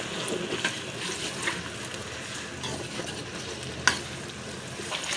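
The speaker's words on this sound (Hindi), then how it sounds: "प्याज डाल देते हैं जी, घी में ऐड कर देते हैं।" Sliced onions fry in hot ghee in a home kitchen pan, a steady close sizzle and crackle with occasional scrapes and clinks of a stirring utensil.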